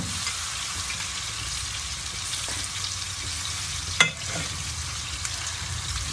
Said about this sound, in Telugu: చూడండి ఇలా మరీ జోరుగా కలపకండి